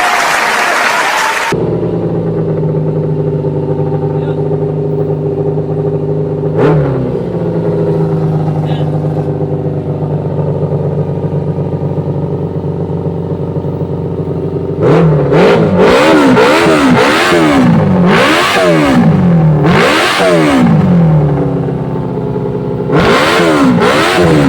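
A Kawasaki 400 motorcycle engine, fitted with a converted 4-pin CDI, idles loudly and steadily, then is revved in repeated rising and falling bursts, close and dominant.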